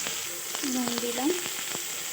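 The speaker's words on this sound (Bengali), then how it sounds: "এবার কড়াইতে পরিমাণ মতো অল্প করে তেল দিলাম, আগে দিয়ে আলুটা আগে ভেজে নেব।" Potatoes fry in a little oil in a kadai, making a soft, steady sizzle with a few crackles and a brief tonal sound in the middle.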